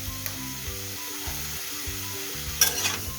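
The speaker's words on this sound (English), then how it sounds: "And just shallow fry it." Vegetables shallow frying in a pan on a gas stove, seasoned with black pepper and oregano, with a soft steady sizzle and occasional stirring scrapes, close and alone.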